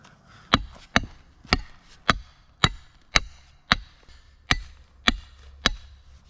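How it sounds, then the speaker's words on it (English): A chisel chipping brittle trail rock, sharp metallic strikes landing about every half second, ten or so close, loud, ringing blows with quiet gaps between them and no talk. "So I could chisel this down."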